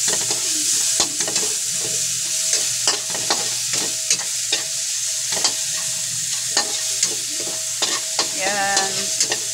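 Garlic and onion sizzle steadily in a hot pan while a utensil stirs and scrapes against the metal in frequent close taps and clinks.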